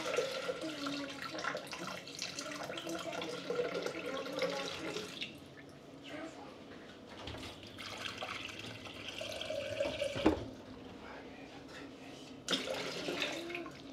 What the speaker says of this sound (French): On va mettre environ 800 g d'eau.